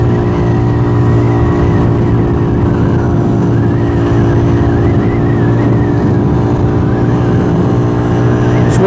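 A Benelli 180S motorcycle engine hums steadily on a test ride, a loud continuous drone with a constant pitch and wind noise, holding nearly level with slight rises in revs throughout.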